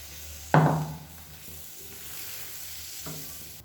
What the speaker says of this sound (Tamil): இப்போ கல் நல்லா காஞ்சிருச்சு, ஊற்றிடலாம்.